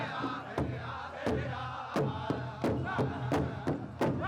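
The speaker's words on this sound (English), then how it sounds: "We'd like to welcome them with a beautiful round of applause" Crowd noise at a Treaty 4 powwow grand entry, with steady broad cheering and a regular pattern of loud thumping beats roughly every 0.7 seconds under the crowd.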